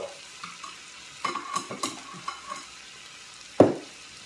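Mushrooms sautéing in a pan for a lentil dish give a soft, steady sizzle broken by several light spoon scrapes and a sharper clatter near the end, with no talking.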